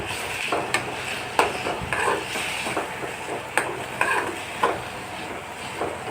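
Thuthuvalai leaves sautéed in a pan for chutney, a steady close sizzle broken by repeated scrapes and knocks of a stirring spoon against the pan.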